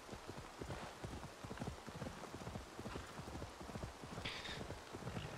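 Steady hoofbeats of a horse clip-clopping at a walking pace in the video game Assassin's Creed Valhalla, a continuous rhythmic clatter with a soft rain-like hiss in the background.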